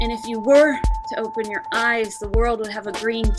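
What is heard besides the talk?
No everyday noise stands out behind the speech.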